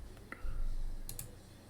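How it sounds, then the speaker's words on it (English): Computer keyboard keys are pressed while entries are added in record-keeping software: a single light tap, then two quick sharp clicks close together, in a quiet room. "or you can just hit return on your keyboard."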